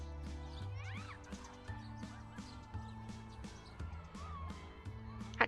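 A kitten meows in the video game Cateau, with short upward-curving cries repeating over a steady game music backdrop of low sustained tones, fairly faint and mid-distance.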